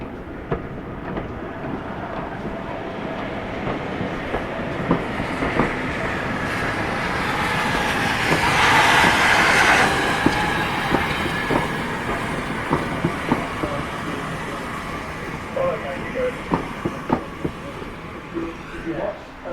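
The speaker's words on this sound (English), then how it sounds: "If you watch as that train goes past, you'll see track circuits operate as it's proceeding." A train rumbles steadily past on the Severn Valley heritage railway with rhythmic clacks over the rails, swelling louder midway and fading, with faint voices under the noise.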